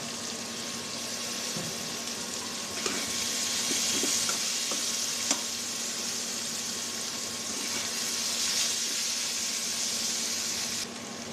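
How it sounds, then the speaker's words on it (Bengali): Steady, close-up sizzling of hilsa fish frying in hot oil with onions and chillies, with occasional stirring clinks and no talking. "মাছগুলো দিয়ে আবার ভাজবো পেঁয়াজ মরিচটাও ভাজা ভাজা হতে থাকবে"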